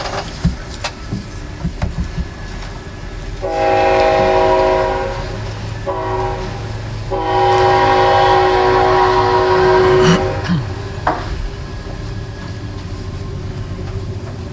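A train passing near a downtown meeting room, with a steady rumble of rail cars throughout and two long, loud horn blasts, the second one longer, fading slowly afterward.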